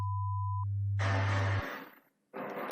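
A pure 1 kHz sine tone holds steady for just over half a second over a deeper sustained hum, then cuts off before bursts of broad noise follow.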